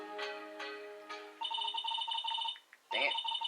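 A phone rings in the game Phoenix Wright: Trials and Tribulations, a bright electronic trilling ringtone that repeats in two bursts after a few beeps of game text sounds, fairly quiet and without talk.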